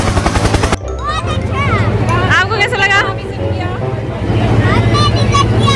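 Simulated helicopter rotor noise from a VR helicopter ride at a fair, steady and loud beneath constant crowd babble and people talking.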